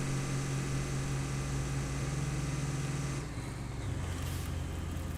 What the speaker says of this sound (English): there must be a better view I can give of the trucks going past